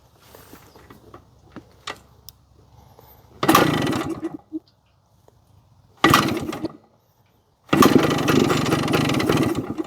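A cold Yamaha DT 100 two-stroke motorcycle on choke is cranked in three loud bursts of rough engine turning, with short silent gaps between them and faint handling clicks before the first.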